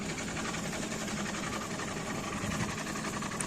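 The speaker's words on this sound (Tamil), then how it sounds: "இது ஃபுல்லாக பர்மா தேக்கு எப்படி எந்தளவுக்கு கட் பண்ணுறா பாருங்கள்" A machine cutting a zigzag design into solid Burma teak furniture board, a continuous dense mechanical drone and whir, steady and fairly loud throughout with no voices.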